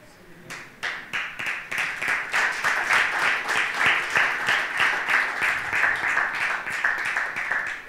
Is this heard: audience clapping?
yes